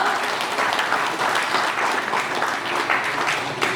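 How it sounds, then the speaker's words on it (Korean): Warm applause from a seated audience at a Korean book launch as an introduced former minister is welcomed, a steady dense wash of many hands clapping close by, with no voices over it. "뜨거운 박수 부탁드립니다."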